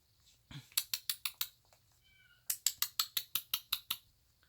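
A pet cat meows in two quick bursts of short, sharp, evenly spaced calls close by, with a brief quiet gap between the runs.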